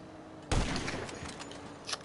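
A sniper rifle fires in GTA 5, one sudden loud crack followed by a long rolling echo, then a fainter second burst near the end.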